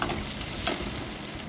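Cut potato pieces fry with salt and turmeric in a pan, making a steady close sizzle broken by a brief scrape of stirring, with no voices.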